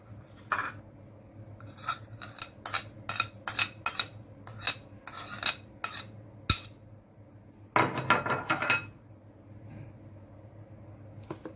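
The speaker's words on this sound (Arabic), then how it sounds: "هنقلب الخليط ده كله في بعضه كده." A utensil clinks and taps against a bowl while mixing the coating for crispy KFC-style fried chicken, a close series of irregular metallic knocks followed by a brief burst of rapid scraping, with no talk.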